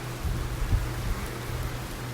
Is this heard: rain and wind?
yes